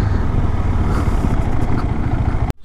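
A KTM Adventure 390 motorcycle engine idles with a steady low rumble, then cuts off abruptly with a short click near the end.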